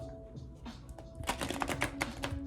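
Tarot cards being shuffled up close, a run of quick papery riffling flicks that grows busier and louder partway through, alone without talking.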